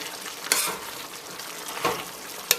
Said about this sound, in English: we're going to turn up the heat to like a medium high and burn off most of that liquid